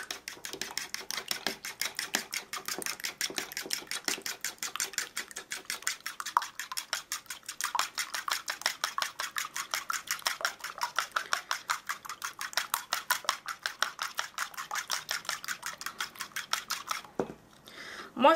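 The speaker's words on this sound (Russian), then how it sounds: "Взбиваем." Rapid, steady metallic clicking of a whisk beating an egg mixture in a bowl, close and fairly loud, keeping an even fast rhythm for most of the stretch before a brief clatter at the end.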